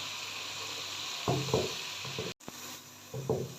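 Garlic and ginger paste frying for mutton korma in a steady, close sizzle, broken by a few scraping stirs of a spoon through the pan and one brief dropout, with no talking.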